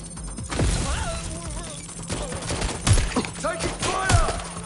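Gunfire erupts in a Watch Dogs: Legion firefight, a string of sharp bursts under game voices and tense music, with heavier shots near the three- and four-second marks.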